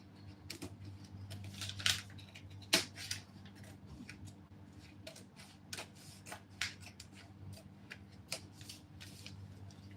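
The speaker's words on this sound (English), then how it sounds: "And here we shall cut like this." Scissors snip through fabric for a budget wedding dress, a close series of irregular crisp cuts with a few sharper louder clips, over a steady low hum and no talking.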